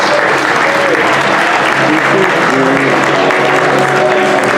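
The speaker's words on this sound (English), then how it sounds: "to give those guys a round of applause" An audience at a Middle-earth tabletop doubles tournament applauds the winners with loud, sustained clapping from a crowd, while a voice and murmured talk carry faintly beneath it.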